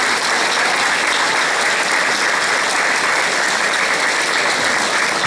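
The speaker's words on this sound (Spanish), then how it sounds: "La verdad que un fuerte aplauso" A large crowd at a municipal celebration for senior citizens gives a strong, loud round of applause, dense unbroken clapping that stays even and close from start to finish.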